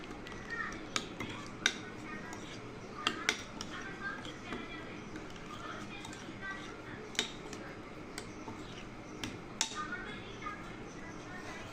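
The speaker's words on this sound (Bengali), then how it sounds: "সব কিছু দিয়ে এখন ভালো করে মিশিয়ে নিব।" Chatpati ingredients mixed with lemon juice in a bowl, giving soft scattered clinks and scrapes of a spoon against the dish at an uneven pace under steady low background noise.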